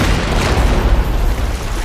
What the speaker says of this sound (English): Fitzroy will sacrifice himself by exploding a grenade in his hand